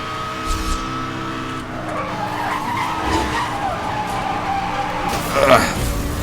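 A race car in Need for Speed: Hot Pursuit (2010) roars continuously as it accelerates, its engine drone mixed with tire skidding and squeal, loud and sustained, with a louder burst near the end.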